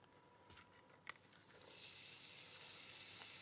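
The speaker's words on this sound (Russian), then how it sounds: "Обжариваю лук, чеснок." Chopped onion and garlic fry in oil in a pan, a few light clicks and spatula scrapes first, then a rising, steady close sizzle that holds to the end without talk.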